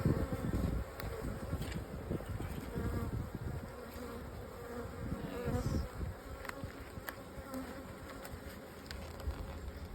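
Dense buzzing of many honeybees close by at an open hive as bees are slid off, rising and falling continuously, with some handling noises and a brief spoken word.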